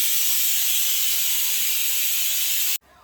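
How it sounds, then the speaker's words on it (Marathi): A pressure cooker whistle lets out a loud, steady hiss of steam at close range, then cuts off abruptly near the end, leaving faint room noise. "सो आपली फर्स्ट शिट्टी झालेली आहे."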